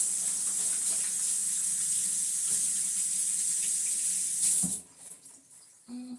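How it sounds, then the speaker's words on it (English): Hands washed under a running kitchen tap, a loud steady hiss of flowing water that cuts off near the end, leaving brief faint clinks and drips. "Wash my hands."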